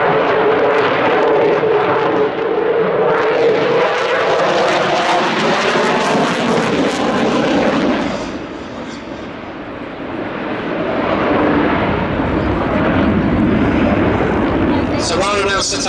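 A propeller aerobatic aircraft performs a display at the Duxford Air Festival, its engine droning steadily and loudly, easing off and dipping around the midpoint as it slows, then building again, with a commentator talking over it.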